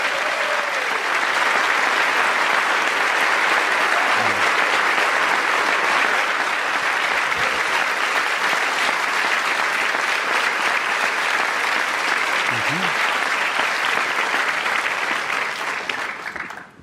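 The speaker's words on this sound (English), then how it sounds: "honor his memory with a round of applause" A commencement crowd breaks into a long, sustained round of applause, loud and even for over fifteen seconds before tapering off abruptly at the close.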